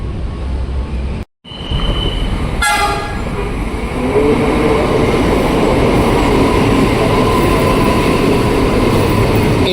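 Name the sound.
CRRC commuter electric train at Cakung station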